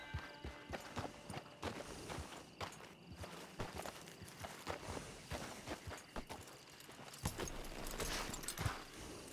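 Horse hooves clip-clop at a steady walking pace in Red Dead Redemption 2 Online, close and fairly loud, with rustling and a busy outdoor camp backdrop.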